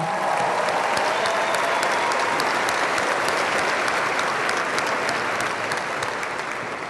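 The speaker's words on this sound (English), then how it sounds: "Can we give them one more round of applause?" A large graduation audience at a senior high school ceremony applauds in a steady, dense roar of clapping that holds evenly throughout, without speech over it.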